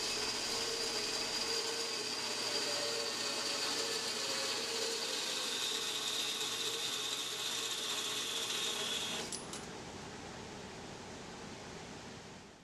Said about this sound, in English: I'm going to start by cutting some 1-inch bar stock to 1 1/2 inches.